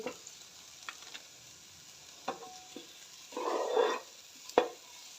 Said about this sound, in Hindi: 2 बड़े साइज़ के प्याज काट लिए हैं बारीक बारीक करके, और हमने फ्राई पैन में डाले हैं